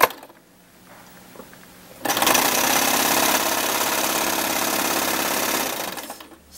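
A sewing machine stitches the seams of a homemade top: after a quiet start, one loud, close, continuous whirring run of rapid needle clatter lasts several seconds, then cuts off.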